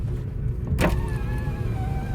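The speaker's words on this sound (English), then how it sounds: "I'm actually going to roll my window down just so you can hear some of the outside sounds." A 2012 Mitsubishi i-MiEV electric car's power window motor whirs down in one short, close burst, with a low steady road rumble underneath and faint outside sounds coming in afterward.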